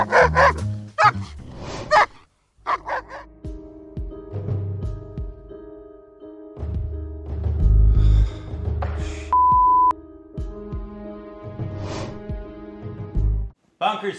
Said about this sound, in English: This is my dog, Funk.